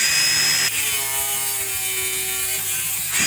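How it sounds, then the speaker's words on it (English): A handheld saw rasps through a cable on a rusty Ford F-100 truck with a fast, ratcheting buzz that holds steady for a few seconds before cutting off, close and loud with no voices. "What other things can I cut with my fun saw?"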